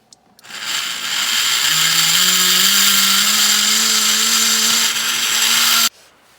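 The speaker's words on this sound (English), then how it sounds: "the spin of the burr and the mandrel ends up dragging you away from the stone" A rotary burr on a mandrel grinds stone: a close, loud motor whine spins up with rising pitch, holds a steady high-pitched grind for about four seconds, then cuts off abruptly.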